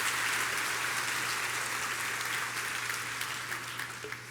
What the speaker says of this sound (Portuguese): Acorda aí, dá uma salva de palmas.